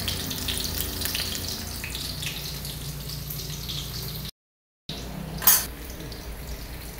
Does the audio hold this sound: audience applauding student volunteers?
no